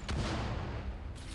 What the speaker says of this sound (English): He's got a tier 5 rare blast cannon and a tier 1 legendary blast cannon.